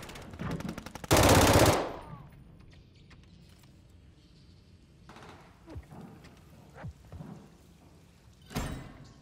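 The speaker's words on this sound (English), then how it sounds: "Friendly remote turret deployed." Remote turret machine gun in Call of Duty Modern Warfare 3 multiplayer fires a rapid burst near the start, followed by a loud blast, scattered distant battle noise and a later sharp crack.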